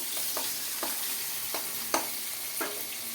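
Chopped tomatoes fry in hot oil with nigella seeds, a steady close sizzle broken by soft, regularly spaced stirring scrapes of a spoon in the pan, with no voices.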